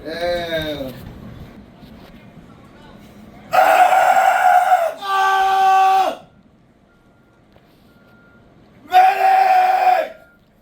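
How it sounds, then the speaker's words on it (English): Screams of people calling for help in a military video game, several loud bursts separated by quieter gaps, with a brief voice at the start. "They're screaming for help."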